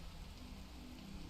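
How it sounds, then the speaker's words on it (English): Steady rain in a video game hisses without pause, a dense, even wash of drops with no other sounds. "That's the second time that rain just stopped me from proceeding."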